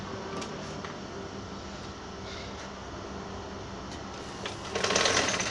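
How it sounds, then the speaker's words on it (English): Sewing machine stitching across a trouser pocket to close it, giving a faint, steady mechanical whir with light ticking, a brief louder burst near the end, and no voices. "Stitch on top of this in order to close the pocket"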